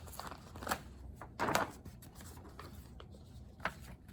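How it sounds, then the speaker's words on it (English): Marker or chalk scratching across a classroom board in a few short strokes, with faint low background noise between the strokes. "if I write on here"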